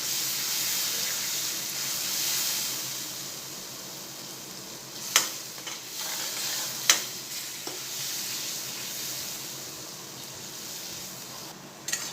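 Masala paste mixed with garlic chutney fries steadily in oil for a Gujarati cluster-bean dish, a continuous close sizzle and hiss with a few sharp clinks of a stirring spoon midway and near the end, no talk.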